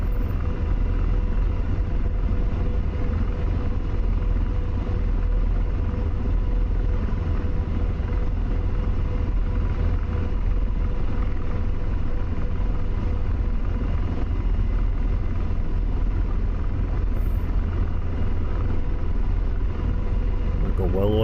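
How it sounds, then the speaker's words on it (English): Corsair warbirds take off in the DCS flight simulator, giving a dense, steady engine roar that fills the whole clip with no breaks. There is no talk over it. "just watch and enjoy the takeoffs"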